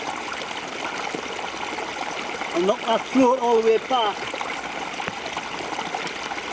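Fast-flowing stream water in winter woods rushes steadily close by, a continuous loud wash, with someone talking briefly over it midway.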